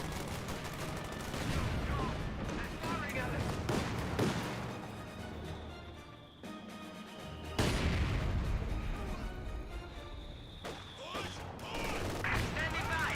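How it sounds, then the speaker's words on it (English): Company of Heroes 2 battle with mortar fire, dense bursts of gunfire and booming explosions across a steady wartime din, punctuated by louder blasts partway through. "Great mortar hits there."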